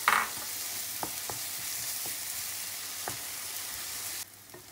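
Onion with garlic ginger paste, cooking for dum aloo, fries in a pan under a steady, bright sizzle, with a few soft spoon taps and scrapes. The sizzle drops away abruptly near the end.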